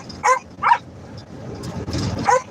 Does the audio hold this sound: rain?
no